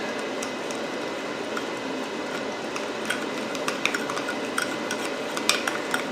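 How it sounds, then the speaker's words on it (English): A spoon mixing mustard sauce in a bowl, soft continuous stirring with scattered light clinks of metal against the bowl, growing a little sharper toward the end, no talk. "I'm going to take my spoon and kind of mix that all up"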